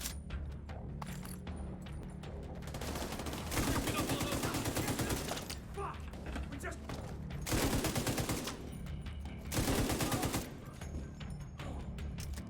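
Gunfire from weapons in The Division 2 video game: loud rapid bursts of automatic fire repeat in several stretches over a steady background of combat noise, with quieter gaps between volleys.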